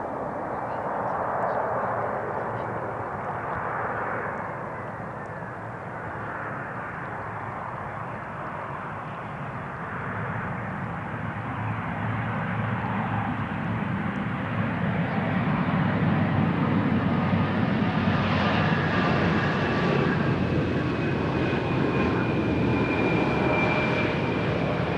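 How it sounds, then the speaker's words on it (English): A KLM Embraer 175, five years old and arriving from Zurich, lands at Amsterdam Schiphol on runway 18R, its engine roar steady and broad, swelling louder toward the end with a rising whine; no talk. "plane now coming in is coming in from Zurich, an Embraer 175 from KLM"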